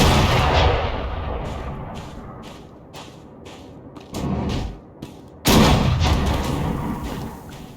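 Blast pad firing in the video game SWTOR, knocking a player back: a string of heavy booming thumps, a loud one near the start, sharp cracks in the middle and a big blast followed by a fading rumble.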